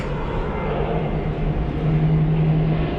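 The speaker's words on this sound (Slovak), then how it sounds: "Práve letí lietadlo" Airplane passing overhead at a feeder fishing spot, a steady distant drone with a low hum that swells slightly toward the end, heard alone.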